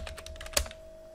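Quick clicking keystrokes on a computer keyboard as a password is typed, a fast run of close taps ending in one firmer key press, over a steady electronic hum.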